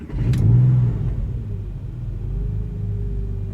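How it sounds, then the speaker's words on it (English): A Porsche 996 flat-six cranks and fires up after sitting for nearly two weeks, a loud rumbling start swelling into a rev, then settling into a steady idle close by. "So let's see if it fires up first."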